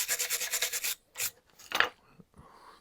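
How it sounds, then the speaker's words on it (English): Rust is scraped off a vintage Knowlson No.3 spring tool in a run of quick, close rasping strokes, followed after a pause by a few separate harsh scrapes and quieter scratches. "let's see if we can scratch off some rust here"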